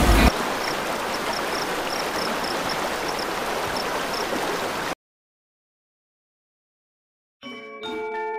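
A river behind a rural house flows in a steady, rushing wash of water, fairly close and continuous for about five seconds, then cuts to silence before a short burst of other sound near the end.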